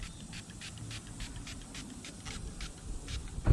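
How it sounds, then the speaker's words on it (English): Repeated short bursts of spray polish from an aerosol can, used while cleaning a Previa, hiss in a quick irregular rhythm over low background rumble, fairly faint and close. "we got the spray,"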